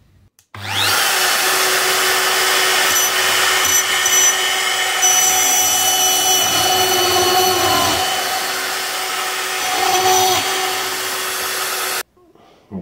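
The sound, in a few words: drilling with a router bit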